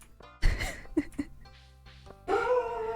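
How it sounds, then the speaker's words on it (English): A dog in the video game Stardew Valley barks in a few sharp, loud bursts followed by a drawn-out whining howl, close by. "Oh, he's barking. That's fun."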